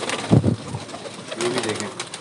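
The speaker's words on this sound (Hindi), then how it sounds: "ये दोस्तों मैं आपको बताता चलूँ कि ये सारे कबूतर परवाज़ी कबूतर हैं।" Flying pigeons of the parwazi breed coo in short, low throaty bursts near the listener, with a faint voice and light background noise between the calls.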